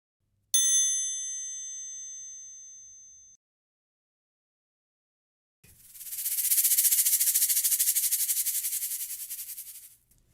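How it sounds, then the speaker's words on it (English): A single bright metallic ding rings out and slowly fades, followed after a pause by a loud steady hiss-like rattle that stops abruptly. "I would play a beat on the triangle."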